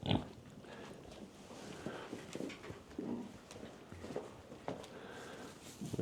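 Pigs shuffle and grunt softly in their pen during a snowstorm, with faint scattered snorts and rustling close by in a quiet setting.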